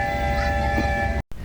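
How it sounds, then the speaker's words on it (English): Christmas train ride at a rainy family farm, a steady rumble of the train with sustained whistle or horn tones running throughout, then a brief cut to silence before the rolling noise resumes. "That was an excellent Christmas train ride."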